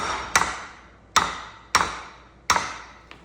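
Old U-joint being hammered out of a Jeep TJ Rubicon Dana 44 front axle shaft: four sharp metallic hammer blows at an uneven pace with ringing decay, then a fainter fifth tap, close and without talk.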